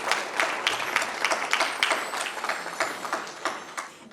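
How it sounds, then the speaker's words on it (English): A gala audience at a youth empowerment event gives a round of applause as a woman walks up to speak, dense steady clapping from many hands with scattered sharper claps standing out, continuing throughout. "Everybody, let's give her a round of applause as she makes her way up here."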